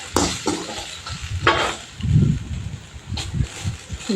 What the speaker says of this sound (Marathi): मटकी इकडं व्यवस्थित भाजून घेते